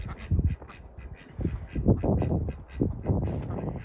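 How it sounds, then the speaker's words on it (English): Ducks at a farm pond quacking repeatedly in uneven bursts, several birds close by and fairly loud, with short gaps between calls. "The ducks found the pond."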